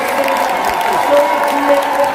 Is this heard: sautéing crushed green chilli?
no